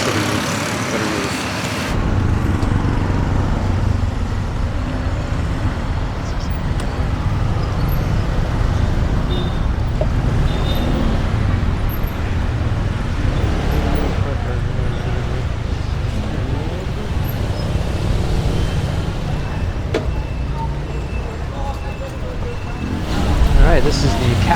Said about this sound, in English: There's a lot of traffic coming on there